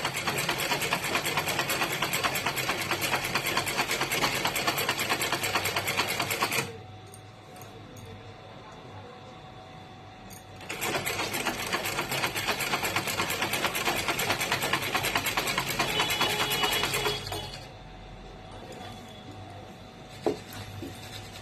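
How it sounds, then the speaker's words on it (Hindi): A sewing machine stitches an Afghani salwar in two long, steady runs of rapid mechanical whirring, broken by a quiet pause of about four seconds and ending with a softer stretch. "अब हम करते हैं अपनी अफगानी सलवार स्टिच"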